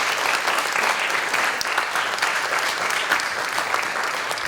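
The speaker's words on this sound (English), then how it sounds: "Big round of applause for that" Steady, dense applause from a school assembly crowd at an elementary school honor society event, sustained and fairly loud throughout with no pauses.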